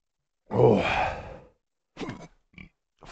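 A hiccup-like gasp and grunt after eating very hot chocolate, heard as one loud, strained vocal burst followed by two shorter, quieter catches of breath, close and alone.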